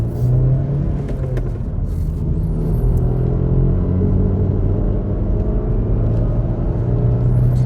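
Vauxhall Astra G 1.4 petrol car climbing a hill, heard from inside as a loud, steady low engine drone and road rumble, smooth and continuous with no notable revving.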